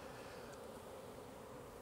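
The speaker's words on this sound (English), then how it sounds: "I bounce them like that, and all the bees are going from this box into the full-size hive." Honey bees bounced from a nucleus box into a full-size hive produce a dense, steady buzzing drone that stays constant throughout, fairly soft and close, with no voices.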